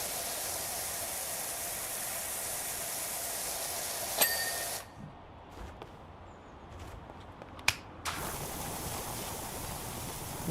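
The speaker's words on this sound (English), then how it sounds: "The white noise of the water constantly" A pressure washer sprays in PowerWash Simulator 2, a steady broadband hiss that cuts out abruptly midway, leaving a quiet stretch broken by a few short clicks before the spray resumes.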